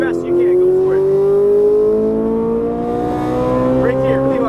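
A Ferrari 458 Italia's 560 hp engine accelerating under throttle, loud and close, its pitch climbing steadily in a strong smooth wail across the whole stretch, with a brief dip near the start and a voice faintly underneath.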